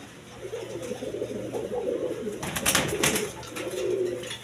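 A pigeon coos in low, repeated courtship calls close by, with a brief burst of fluttering or scuffling midway and faint background hum.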